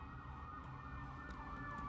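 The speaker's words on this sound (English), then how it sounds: "Sorry about the sirens, guys." A wailing emergency vehicle siren sweeps up and down in a steady tone over constant New York street traffic rumble, fairly distant but clearly audible.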